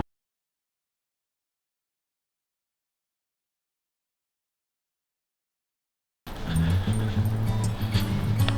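Silence gives way after about six seconds to close, breathy huffing and puffing from a dog on a walk in a wooded area in Ohio, with faint whimper-like noises over it.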